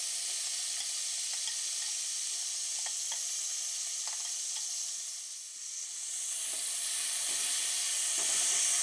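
Peppers sizzle over medium heat in a pan meant for shrimp, a steady bright frying hiss broken by light scraping stirs, dipping briefly before swelling louder again.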